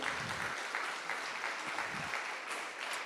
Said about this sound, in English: Let's give them a round of applause for volunteering.